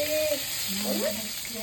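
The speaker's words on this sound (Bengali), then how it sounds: "রান্না হচ্ছে এখন বেগুন ভাজা হচ্ছে" Eggplant slices frying in a pan in a home kitchen during a family Lakshmi puja, giving a soft, steady sizzle with voices faintly in the background.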